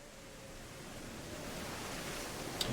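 Storm waves surging at sea in the video game Paranormasight, a steady broadband wash of surf and wind that slowly swells in loudness, heard alone without voices.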